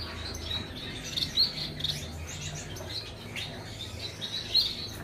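Pet birds in a home aviary, including blue and yellow golden varieties, black long-tails and owls, give short, bright chirps and tweets in scattered bursts, near and moderately loud over a low steady background, with no talking.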